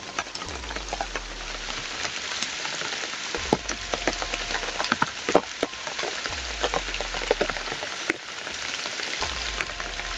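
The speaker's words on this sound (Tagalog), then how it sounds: "Grabe ulan mga idol." Steady, dense patter of rain pouring down on a surface, loud and continuous with scattered sharper drops, with a low rumble recurring underneath.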